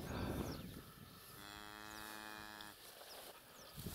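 A single long, low moo from a cow, fairly close, lasting over a second against quiet outdoor background.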